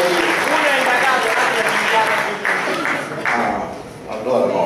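Applause from an audience at a political rally tour stop in Bologna, a fairly loud crowd clapping that rises and dips unevenly, with voices mixed in around it.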